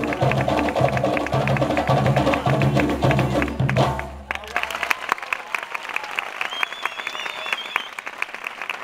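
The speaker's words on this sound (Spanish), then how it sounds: "un fuerte aplauso para ella, por favor" Concert audience applauding a dancer, clapping and crowd noise over a rhythmic musical beat for about four seconds, then cutting to thinner, scattered claps and sharp percussive hits with a faint sustained tone.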